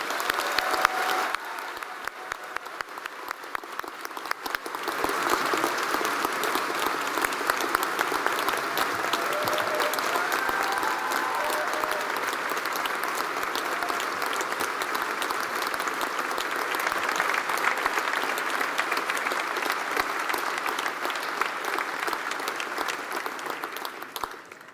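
Sustained, steady audience applause fills a hall to welcome Congressman John Lewis at the UC Davis School of Law commencement, holding at an even volume for about twenty-four seconds before tapering at the end.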